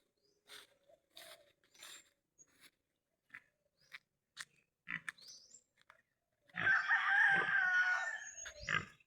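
A hen and her chicks give scattered short clucks and peeps, then a louder sustained call near the end, close and without talk.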